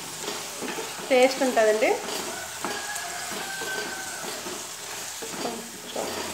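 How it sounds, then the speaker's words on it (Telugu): Chili powder and turmeric fry in a pan for a small-fish and drumstick curry, a steady sizzle with spoon stirring and scraping against the pan, while someone talks briefly over it. "ఇక కొంచెం 1-2 నిమిషాలు అలా వేపుకోవాలి."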